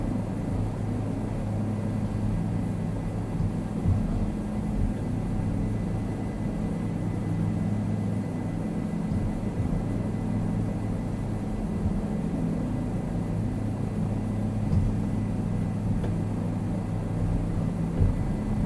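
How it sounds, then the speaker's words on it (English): A helicopter in Microsoft Flight Simulator descends to land in a tight spot, giving a steady, continuous low droning rumble of rotor and engine that holds even and unbroken throughout. "And we're just going to let the helicopter come down."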